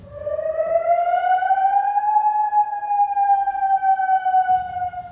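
An air raid warning siren in Bahrain wails loud and steady, its pitch rising slowly then holding a long sustained tone for several seconds with no voices.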